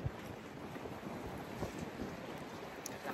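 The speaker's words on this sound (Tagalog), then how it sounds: "Lakas ng hangin dito." Strong wind gusting by the sea at Porteau Cove, Squamish, British Columbia, buffeting the microphone in a steady roar with a constant wash of waves beneath.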